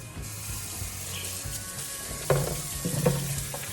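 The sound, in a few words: rinsing harvested sunflower seeds in a colander with water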